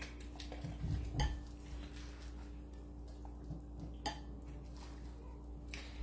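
Broth ladled into a bowl of ramen noodle soup: a few close clinks of the ladle against the dish with soft liquid pouring and stirring, clearest early on, over a steady low kitchen hum.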